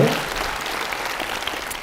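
An audience at a lecture hall talk claps together, a dense, steady burst of applause heard close and loud throughout.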